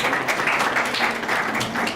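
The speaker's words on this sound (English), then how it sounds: "Let's welcome him with a big round of applause" Audience at a university talk on internationalization in higher education claps to welcome a speaker, a steady, moderately loud round of applause that fills the whole moment.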